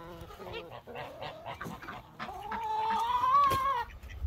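Chickens in a mixed backyard flock cluck and squawk continuously, rising into a loud drawn-out call toward the end.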